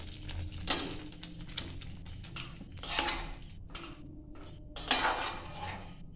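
Spinach being sautéed in a pan, with bursts of scraping and clinking from a spatula stirring against the metal over a quiet low sizzle.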